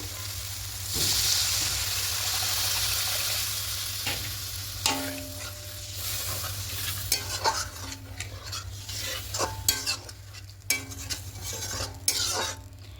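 Katla fish kalia masala, a spice paste fried until the oil separates, sizzles steadily as water goes in, with scraping utensil clicks and pan knocks scattered over a continuous close hiss.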